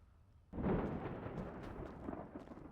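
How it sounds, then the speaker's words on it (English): A loud, close rumble of thunder breaks in suddenly and rolls on without pause, fading only slightly as it goes, with no talking over it. "You heard that thunder?"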